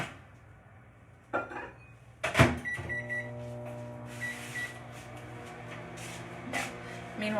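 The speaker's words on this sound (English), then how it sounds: "I'm gonna pop this in the microwave for about 2 minutes so it can boil" A microwave oven hums steadily after its door shuts and it starts, heating a bowl of water to boiling for pretzel bites, with a few clatters of dishes and a beep near the end.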